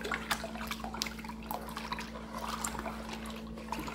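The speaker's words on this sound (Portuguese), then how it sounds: "vou mexer bem" Liquid glycerin soap being stirred in a container, with soft wet drips and sloshing clicks repeating irregularly, close and fairly quiet over a steady low hum.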